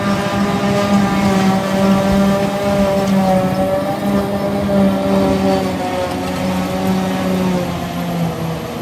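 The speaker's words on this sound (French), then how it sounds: "ça fume beaucoup à l'ensileuse de toute façon" A forage harvester runs steadily in a field while chopping dry silage, a loud continuous engine drone with a strong low harmonic hum that holds close and unbroken throughout.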